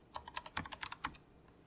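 Roughly a dozen crisp computer keyboard keystrokes in a quick, uneven run, with the last ones spaced out, as a command is typed; close and quiet, with no voices.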